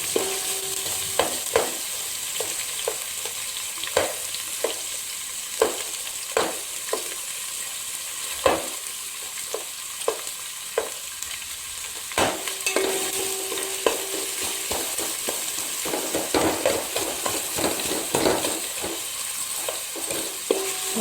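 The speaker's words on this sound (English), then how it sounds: "try to mix everything together, all the spices, the curry leaves" Chopped onions fry in a pan with spices and curry leaves for egg biryani, while a utensil stirs and scrapes in irregular clicks and knocks over a steady close sizzle.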